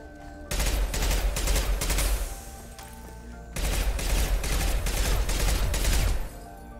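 Two long, loud bursts of rapid gunfire from shooting in Mass Effect 2, each lasting about three seconds and separated by a short lull, close and continuous.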